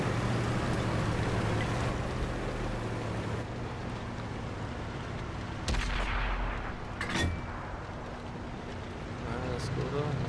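A tank cannon from the Skoda T50 autoloader tank in an Xbox One tank battle game booms amid continuous engine rumble and battle noise, a few sharp blasts standing out while someone talks in German over it.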